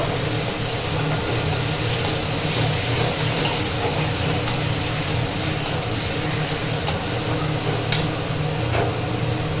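Masala is sautéed in a pan with steady stirring, a continuous close sizzling hiss with faint scrapes and occasional ticks of the spoon, with no talking.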